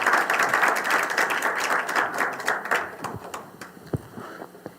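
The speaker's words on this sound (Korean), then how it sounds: "박수 부탁드립니다" Audience applause fills a labor union ceremony hall, a broad wash of clapping that starts strong and gradually thins out over about five seconds.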